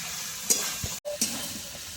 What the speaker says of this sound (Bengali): আর মাছের মাথাগুলো একসঙ্গে দিয়ে মশলার সঙ্গে আলু সবজির সঙ্গে এরকম কষিয়ে নেব